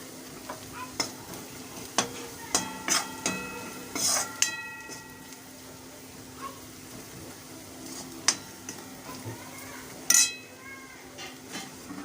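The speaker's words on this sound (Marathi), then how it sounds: "मसाला असा परतून घ्यायचा" Spiced masala for okra bhaji being stirred and sautéed in a pan, with soft sizzling under repeated sharp scrapes and clinks of a spoon against the metal, close and fairly quiet.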